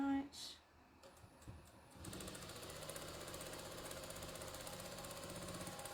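A sewing machine chain-stitching half square triangle quilt pieces runs in a fast, steady mechanical rattle from about two seconds on, after a few quieter handling clicks.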